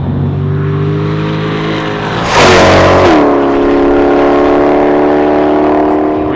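A supercharged Chevrolet C8 Stingray Hennessey H700 engine revs loudly and close by, holding a steady drone, surging in one sharp rise in pitch and volume, then settling back into a high, even hum.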